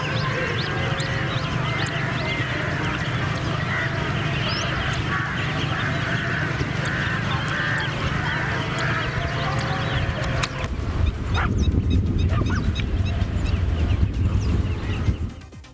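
A flock of flamingos calls on the Tamil Nadu coast, many overlapping honking, goose-like cries forming a dense, continuous chorus that stays loud throughout, with a low rumble rising near the end.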